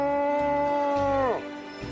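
Tofa, a conch shell horn of Charonia tritonis, blown in one sustained, bright, buzzy note that swells and then sags sharply downward in pitch as the breath gives out, close and loud.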